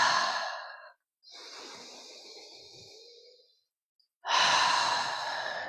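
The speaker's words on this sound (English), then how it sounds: "start to really emphasize the exhale with a ha, H-A." Pranayama breathing with audible breaths, each exhale pushed out forcefully as an open-throated "ha"; three long, close breath sounds separated by short silences, with no speech.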